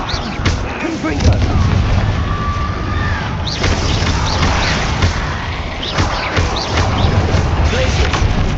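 Spell combat in the video game Hogwarts Legacy, where the Confringo explosion spell goes off in a dense barrage of booms and crashes mixed with other spell effects, loud and continuous, with a voice calling out over the fighting.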